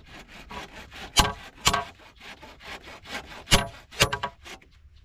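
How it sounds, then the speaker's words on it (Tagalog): A sharp new hand saw cuts through wood on a farm, giving irregular rasping strokes with several louder pulls, close up and without talk. "Ay, matalim lagari ah."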